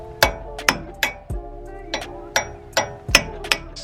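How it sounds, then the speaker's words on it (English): Steel hammer striking a chisel to knock off the axle nut cover on the front wheel hub of a 1999–2006 Chevy Silverado 1500: about eight sharp metallic clinks with a ringing tail, spaced roughly every half second, close and clear. "Use your hammer."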